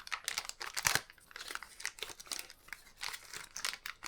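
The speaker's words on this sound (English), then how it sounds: "So literally just taking out the plastic bag." Plastic bag crinkling and rustling as it is pulled out from a V5 Pro SMT pick and place machine, a steady run of close, crisp crackles with no talk.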